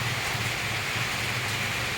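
Heavy rain pours steadily and loudly throughout, a dense even hiss with a low rumbling undertone and no voices.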